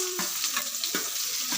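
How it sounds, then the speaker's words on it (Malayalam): Onions sauté in hot oil in a pan, a continuous close sizzle broken by two or three brisk scraping stirs of a spoon across the pan. "ഇനി നമ്മൾ ഈ സവോളേനെയൊക്കെ ഇരുന്ന് നമുക്ക് നന്നായിട്ട് വഴറ്റിയെടുക്കാവേ"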